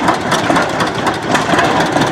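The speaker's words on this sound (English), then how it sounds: "Not quite sure what tractor he's got running here." Old tractor engine idling steadily at a gas-up engine show, a continuous loud mechanical chug with a rough pulsing beat and no pauses.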